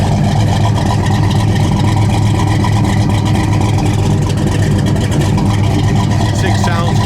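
The 500hp engine of a 1970 Chevelle SS with chrome-tipped exhaust idles in a loud, steady, deep rumble that stays constant throughout.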